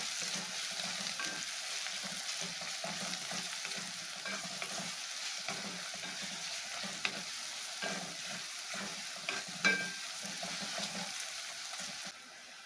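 Sliced chillies and bay leaf pieces sautéed in a pan, a continuous soft sizzle with gentle stirring scrapes and an occasional small clink.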